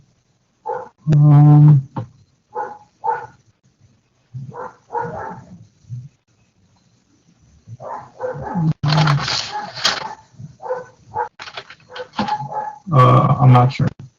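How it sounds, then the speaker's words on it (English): A dog barks in the background of an online lecture on flip-flops and counters, in a few scattered loud bursts between stretches of a person talking. "I got dogs coming after you there. I can hear him barking away."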